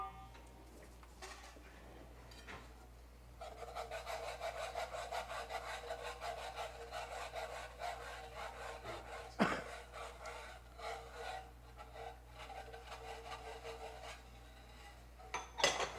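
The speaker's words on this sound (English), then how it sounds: "I think I'll use my whisk." Heavy cream and half and half being whisked by hand, a steady scraping, rubbing rhythm of the wire whisk against the bowl running continuously at close range, with a sharp knock partway through.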